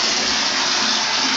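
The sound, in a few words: water running into a bathtub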